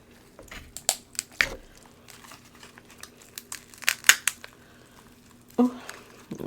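Hands cutting and peeling seafood boil shellfish at close range, scattered crinkles, cracks and wet snaps at an uneven pace, quiet between bursts with a faint steady hum.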